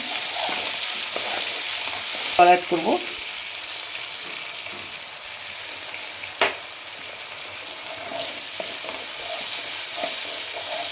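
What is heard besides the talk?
onion frying in a pan for cauliflower do pyaza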